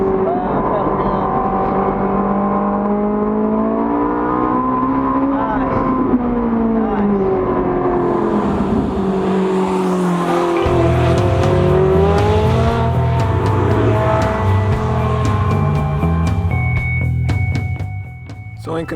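Ferrari 458 pushed hard along a twisty road, its engine howling loud and close with rising and falling revs through gear changes, a steady roar that drops lower partway through.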